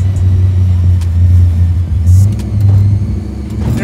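A 1200 hp Volvo car accelerates hard in first gear, its engine roaring loud and close with a deep rumbling drone that surges and wavers as it pulls.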